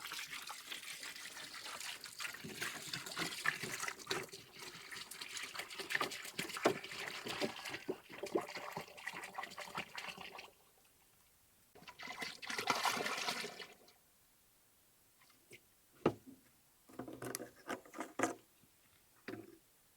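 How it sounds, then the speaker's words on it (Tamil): Coconut oil poured into a pan of boiled herbal water, heard as a long, close, gurgling trickle and splashing pour that stops, then shorter bursts of liquid sound and faint clinks. "இதோடு நம்ம வந்து தேங்காய் எண்ணெய் வந்து ஆட் பண்ண போகிறோம்."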